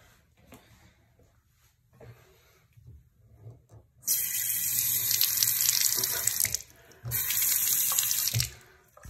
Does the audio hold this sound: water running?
yes